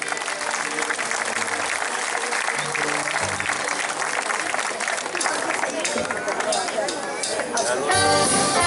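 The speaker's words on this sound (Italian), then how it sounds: "Facciamogli un applauso!" Live concert audience in Italy applauding and cheering for an Italian orchestra performance, a loud continuous burst of clapping with crowd murmur that swells toward the end as music begins.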